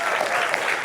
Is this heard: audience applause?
yes